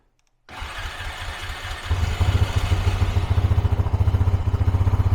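A Honda engine, with fuel on and choke pulled, bursts into life after a moment of silence, then settles into a close, loud, rapid thumping idle with a steady pulsing rhythm.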